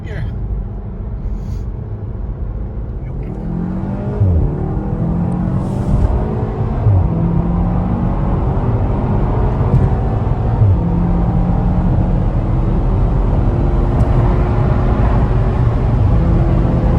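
A stock 2017 VW Golf R Mk7 accelerates on the road, its engine rising through a steady droning growl with a continuous rumble of road and tire noise inside the cabin, loud throughout.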